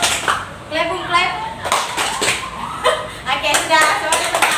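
A group claps hands together in a rhythm game, sharp claps alternating with voices calling out the pattern in a lively irregular beat.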